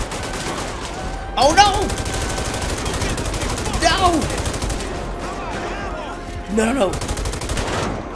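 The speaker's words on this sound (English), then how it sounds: "I'm shooting at the boys." Gunfire in GTA 5 crackles in short bursts at three moments among ongoing game sounds, while a player shouts in alarm over the shots.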